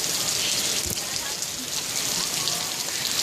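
Rain falls steadily on surfaces outdoors on a rainy day, a dense, even hiss of drops close by that continues without a break for the whole stretch.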